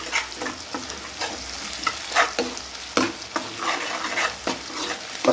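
Pav bhaji vegetables cooking in butter are stirred in a large pan: a steady sizzle broken by frequent rhythmic scraping strokes of the ladle, loud and close, with no talking.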